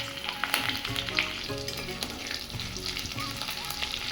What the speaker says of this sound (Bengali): এবার কড়াইয়ে তেল গরম করে জিরে, সর্ষে, মেথি আর শুকনো লঙ্কার ফোড়ন দিয়ে দিচ্ছি।